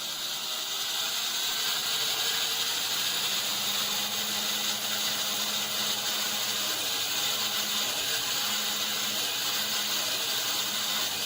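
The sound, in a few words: sawmill cutting a big piece of wood in a video game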